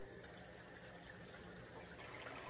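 Water flowing steadily through the overflows and stealth box of a 265-gallon aquarium filter setup, a soft, continuous rushing trickle with no break and no voices.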